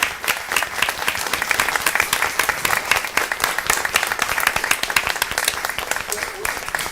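Sustained applause from an audience at a school board of education meeting, standing to honor a group of children; dense steady clapping fills the room with a few voices mixed in.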